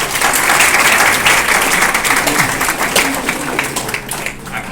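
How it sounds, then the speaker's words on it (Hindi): Loud, sustained applause from an audience at an entrepreneurship club meeting, dense clapping filling the room for several seconds before thinning out toward the end. "इनके लिए जोरदार ताली"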